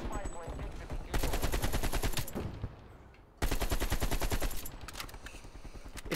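Rapid automatic AK-47 gunfire in Call of Duty Black Ops Cold War multiplayer, two loud sustained bursts of rattling shots separated by a brief lull, with faint game ambience around them.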